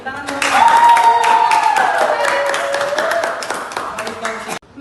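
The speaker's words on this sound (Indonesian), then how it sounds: "Tepuk tangan dong." A classroom bursts into applause, steady clapping from many hands close by while a voice speaks and sings over it, cutting off abruptly at the end.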